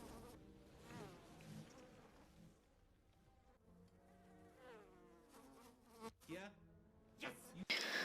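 A buzzing swarm of bees in a forest, a layered insect drone rising and falling across the whole span beneath other wavering tones, with a few sharp sounds near the end.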